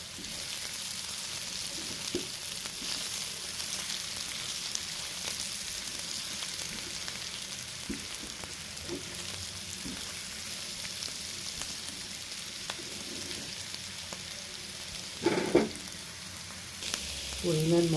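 Papaya with hilsa roe cooks in a lidded pan, giving a faint, steady sizzle with occasional soft clinks and bumps, one louder clatter near the end.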